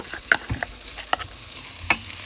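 Garlic frying in a pan while being stirred, a faint hiss under a few sharp clinks and scrapes of a utensil against metal, close and quiet.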